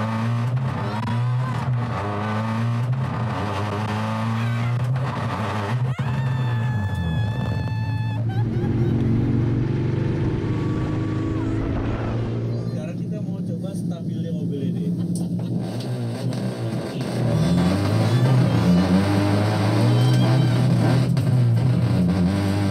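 A Toyota Yaris accelerating on a race circuit, its engine rising and falling through several revs with a steady rumble, heard under someone talking for much of the time.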